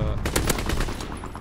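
Rapid bursts of machine-gun fire from a fighter aircraft strike in the World War II shooter Call of Duty WW2, loud and close, a dense rattling volley over about a second and a half.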